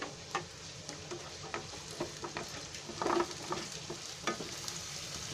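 Chopped onions sizzle quietly in hot oil on a gas stove turned up high, with a steady soft crackle broken by a few scraping stirs and one louder burst of frying.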